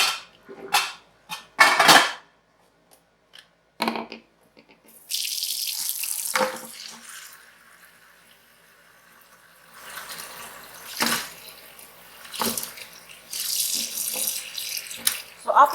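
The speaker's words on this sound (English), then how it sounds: "you rinse the pork bones to get rid of the impurities" Water from a kitchen tap runs over pork bones in a sink, coming in bursts with clatters and knocks between the runs, and a voice speaks briefly.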